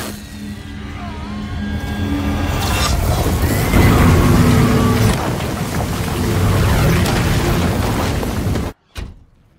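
A loud, close explosion in a superhero action scene, a sustained heavy rumbling roar that swells around four seconds, holds, and then cuts off abruptly before a brief final burst.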